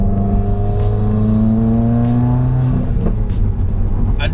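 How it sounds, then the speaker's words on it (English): Tuned 300hp Subaru WRX engine turbo spooling: a loud, steady engine drone whose pitch climbs and then settles, with rising whistly overtones and a faint ticking on top, close and unbroken. "listen to it spool."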